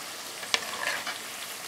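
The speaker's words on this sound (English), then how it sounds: "And I'll just let it fry." Corn tortilla chips fry in hot oil on a high flame turned toward medium, a soft steady sizzle with a few brief crackles and pops, close and fairly quiet, no voices.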